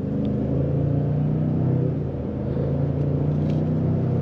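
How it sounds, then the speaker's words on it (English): A 2023 Ford F-150 Platinum 4x4 pickup with a 3.5L V6 in sport mode accelerating hard, heard from inside as a loud, steady, deep engine rumble and drivetrain drone. "Let's go ahead and give this acceleration run."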